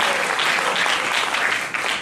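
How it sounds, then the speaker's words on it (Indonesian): Congregation applauding at a church seminar in Duri, Riau, a dense steady wash of clapping that carries through the whole stretch with no break. "Kalau mau tepuk tangan yang bagi aku Tuhan Yesus."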